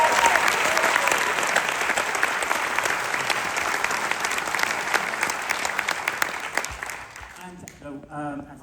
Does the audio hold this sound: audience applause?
yes